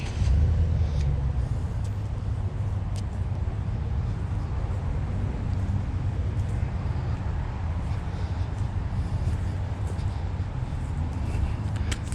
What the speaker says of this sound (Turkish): Berbat trafik